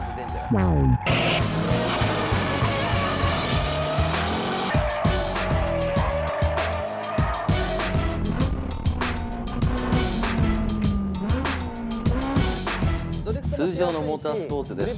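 A drifting car at the D1 Grand Prix slides with loud, sustained tire squeal and a revving engine, continuous and close throughout, with crowd and announcer-like voices talking underneath.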